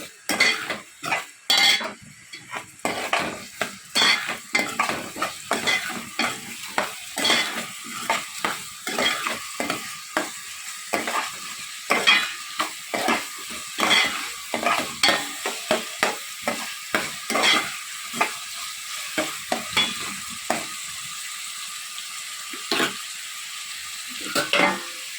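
A spoon stirs chicken curry with cumin and turmeric in a pan, producing repeated rhythmic scraping and clanking strokes against the metal over a low sizzle, close and fairly loud, no one speaking.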